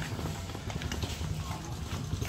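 A young horse's hooves clip-clopping on a hard surface outdoors, a quick irregular run of knocks under a busy, noisy background.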